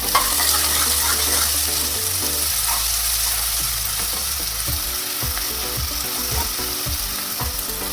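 Cumin, asafoetida and finely chopped onion fry in hot ghee, a loud continuous sizzle close by with stirring scrapes and clatter of the spoon in the pan throughout, no voices.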